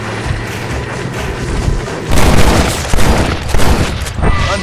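Gunfire in the Western video game Red Dead Redemption: loud, close bursts of rapid shots and booming blasts that grow denser after a calmer opening, with battle clatter and no clear talk.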